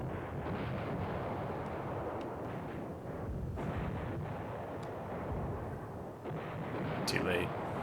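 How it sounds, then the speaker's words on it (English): Artillery bombardment in the wargame Command Ops 2 rumbles steadily as a dense, low continuous barrage of distant shelling, with no clear gaps between impacts. "We're bombarding that."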